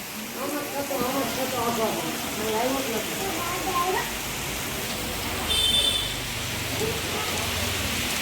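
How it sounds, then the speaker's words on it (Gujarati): Heavy rain pours in a steady broadband hiss at the Shelaiya shrine in Bilkha, while a voice murmurs faintly underneath for the first few seconds. "મિત્રો વરસાદ બહુ પડવા માંડ્યો છે"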